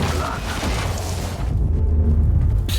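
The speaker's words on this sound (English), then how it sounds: "I was honestly a little surprised how big the explosion radius was" A deep, rumbling explosion in the video game Warhammer 40,000: Inquisitor, a heavy boom that swells and then settles into a low roar that lingers for a couple of seconds.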